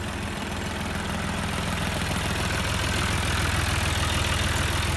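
A John Deere 5055D utility tractor's diesel engine idles steadily nearby, a low rhythmic chug with a faint knocking pulse that stays even throughout.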